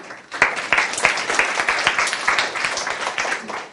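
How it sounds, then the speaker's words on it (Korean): A lecture class applauds a student called to the front: a burst of many hands clapping, quickly rising to a lively, fairly loud patter of distinct claps that holds steady before tapering slightly. "박수 한번 쳐주고"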